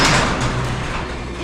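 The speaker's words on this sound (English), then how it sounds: "I just shut the door" Shop door sliding shut with a broad rolling rush that tails off, loud and close inside a garage workspace, no talking.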